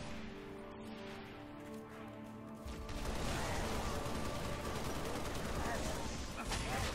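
Pistol fire in the Halo Reach video game sounds as a dense, loud barrage of crackling shots that grows heavier partway through, with other battle noise mixed in.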